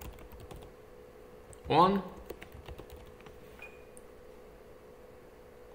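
Soft keystrokes tap on a computer keyboard in a light, irregular patter, interrupted by a brief spoken word partway through.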